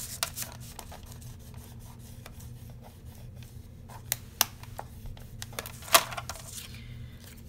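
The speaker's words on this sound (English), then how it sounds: "Fold over and burnish." A scored line on folded paper is burnished by hand, giving faint, steady rubbing and scraping strokes with a few sharper ticks and clicks, heard close and alone.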